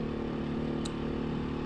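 A Beta 500 RRS dual sport motorcycle cruises along a scenic forest road, its engine a steady, even drone at moderate volume with no obvious revving.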